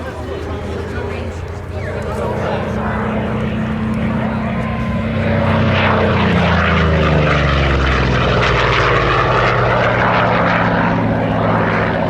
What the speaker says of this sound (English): That was the most powerful and largest capacity engine of any production fighter at the time